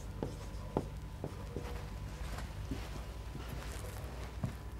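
Handwriting at a board during a linear algebra lecture, a series of short scratchy strokes and light taps at an irregular pace, close and fairly quiet against a low room rumble, with no voice.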